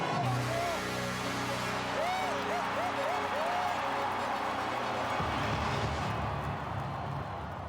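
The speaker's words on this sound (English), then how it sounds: "And the crowd goes bananas." A crowd at the STIHL Timbersports Nordic Rookie Championship in Norway roars and applauds, a sustained wash of cheering and clapping, with a voice talking over it.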